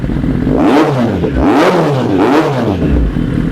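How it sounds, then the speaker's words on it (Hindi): Motorcycle engine revving smoothly up and down in repeated rises, loud and close with a steady idle rumble between revs, no talking. "Do you see how smoothly it revs up?"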